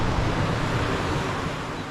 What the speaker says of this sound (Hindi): नीचे से समुंदर की लहरों की आवाज आ रही है